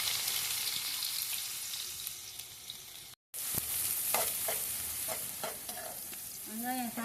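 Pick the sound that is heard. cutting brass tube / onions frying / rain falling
onions frying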